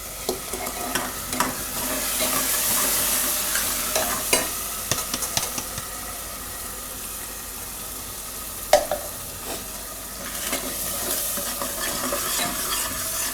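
Potato curry frying in a pan as it is mixed with tomato puree, a soft steady sizzle broken by the scrape and clink of a spoon stirring, quiet, close and without talk.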